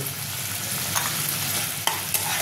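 Spice paste with green chillies and salt frying in a pan for a Bengali-style methi hilsa fish dish, with a steady close sizzle and a few sharp clinks and scrapes of stirring.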